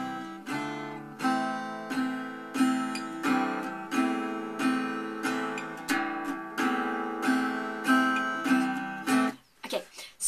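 An acoustic guitar plays the strummed intro of a song, slightly sped up, chords ringing in a regular repeating pattern, clear and close, with no voice.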